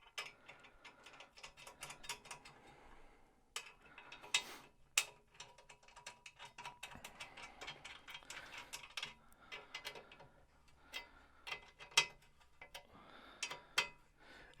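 Bolts on an exercise bike being tightened with the spanner supplied with the bike, a quiet, close series of irregular metallic clicks and ratcheting ticks, some in quick clusters, with no talking.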